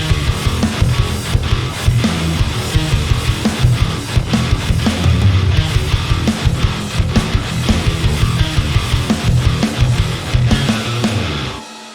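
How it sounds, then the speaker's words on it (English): Double-tracked, heavily distorted guitars through the Ohmicide-S distortion plugin pound out a dense metal riff with rhythmic palm-muted chugs, loud and continuous until it stops. "So let's lay down a second guitar track and finish this riff out."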